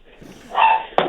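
Small lap dogs give a short, loud yip or bark, a single near bark with a sharper second burst right behind it, heard on its own without talk.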